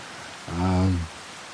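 Steady rain in the video game Farming Simulator 25 makes a constant hiss, briefly overlaid by a short humming tone partway through.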